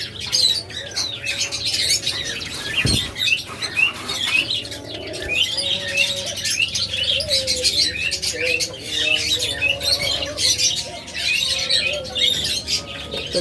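Pet budgerigars and lovebirds in cages chirp and squawk in a dense, continuous chorus of high tweets and calls, with brief wing flutters, close and fairly loud throughout.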